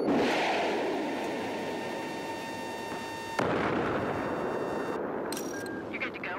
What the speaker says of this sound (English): Missile launch confirmed.